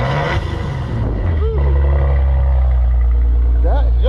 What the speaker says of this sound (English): Joey, give me a rev, man.